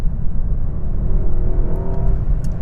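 A Mercedes-Benz S63 AMG E Performance plug-in hybrid accelerates at full throttle in seventh gear, a loud, sustained roar of engine and road noise heard from inside the car.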